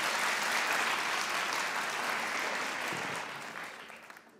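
A studio audience at a comedy talk show claps in a dense, sustained burst that fills the room and then thins out and fades over the last second.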